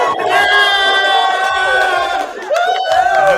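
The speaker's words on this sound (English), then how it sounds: "That was the equivalent of a cheer that would have been done at the banquet, but they dropped it right here at the watch party" A team crowd at a watch party bursts into a loud, sustained group chant and shout, many voices yelling together with a short dip before the cheer surges again.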